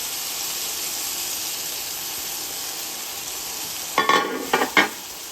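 Marinated whole tilapia with spices frying in a pan, a steady hissing sizzle that runs throughout, with a few short clattering stirs near the end.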